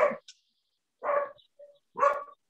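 A dog barks three separate times in a room during a school board budget meeting, each bark loud and close with pauses between them, and no talk over them.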